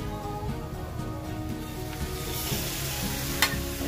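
Beef tongue sautéing with onion and garlic in a pan, a steady close sizzle and fry that runs throughout, with occasional utensil scrapes and a brief sharper clatter near the end.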